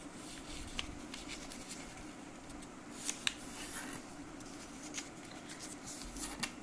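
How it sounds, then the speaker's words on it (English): A square sheet of paper is folded in half and creased, giving faint crisp rustles and soft scraping crackles that come in close, uneven bursts under a low steady background hum. "Take a square sheet of paper, fold it once to make it half."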